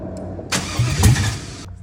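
A GMC truck engine cranks over in a brief, rough burst trying to start, loud and close, with low rumbling pulses rising and fading after about a second without settling into a steady idle.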